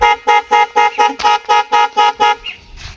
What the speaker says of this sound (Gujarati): તો રોમલાનો હોર્ન વાગ્યો